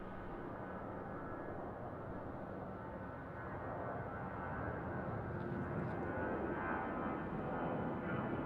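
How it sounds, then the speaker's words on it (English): An Airbus A319 airliner departs from Raleigh-Durham International Airport with a continuous broad jet engine roar, heard from a distance and swelling slightly louder as it goes on, with no talking. "Sounding departure for this A319."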